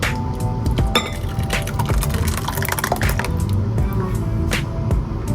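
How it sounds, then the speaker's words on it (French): Warm beurre blanc sauce pours from a pan into a heated bowl, giving a soft continuous liquid trickle close by, broken by a few light clinks of metal against ceramic. "Et là, je vais verser dans mon bol."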